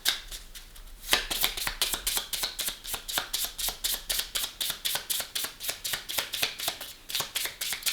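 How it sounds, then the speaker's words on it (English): Tarot cards are riffled and shuffled repeatedly in a quick, steady rhythm, crisp and close, with no talking. "one more shuffle and then I'll just cut the deck"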